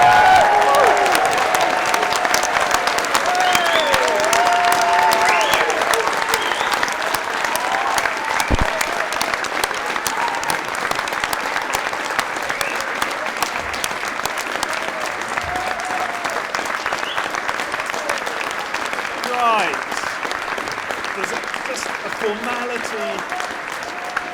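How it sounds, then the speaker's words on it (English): Graduation ceremony audience for social sciences graduates applauding steadily and loudly for the whole stretch, a dense wash of clapping with scattered cheers mixed in. "join me in giving a round of applause to show our graduates how we really feel about them, and cheering is much encouraged"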